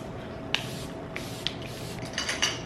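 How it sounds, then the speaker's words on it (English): A few short, hissing sprays from a nearby pump bottle of makeup setting spray, separated by brief pauses, in a quiet room. "I go in and I use a setting spray."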